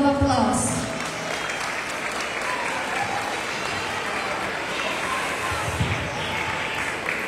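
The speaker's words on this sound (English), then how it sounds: "Let's give him a big round of applause." An audience at a school birthday gathering gives a round of applause for the school director, a steady wash of clapping from a mid-sized crowd that holds throughout, with some voices mixed in beneath.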